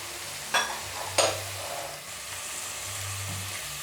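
Masala being stirred into sizzling beef pilau in a pot, a steady close frying hiss broken by two sharp scraping stirs of the spoon against the pot.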